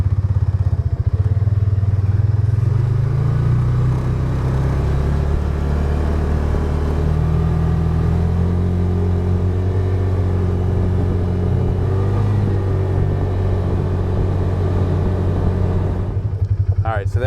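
A Polaris Ranger 570 UTV with a half windshield, driving at about 30 mph, gives a loud, continuous engine drone and rumble with steady wind and road noise that fades near the end.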